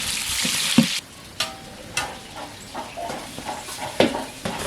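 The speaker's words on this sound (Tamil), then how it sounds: "பச்சை மிளகாய் நல்லா வதங்கிருச்சு அது கூட வந்து வெங்காயம் சேர்த்துக்கலாம்" Onions and green chilies sizzle steadily in a hot pan while a spoon scrapes and clinks against the metal every second or so.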